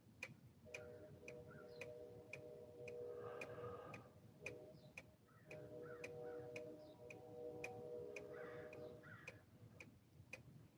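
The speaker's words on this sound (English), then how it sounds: "I can hear some of my crow buddies out there." Crows caw outside in repeated bursts, faint and distant, over a steady ticking clock that beats regularly throughout the quiet room; no talk.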